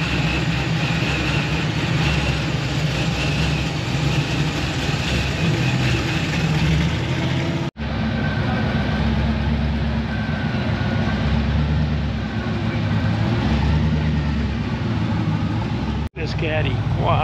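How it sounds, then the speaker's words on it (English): A turbocharged Camaro drag car at a Sick Week gathering at Coney Island Drive-In idles with a loud, steady, close-up rumble that runs unbroken apart from two brief cuts, with people talking nearby. "You hear the turbos in that Camaro."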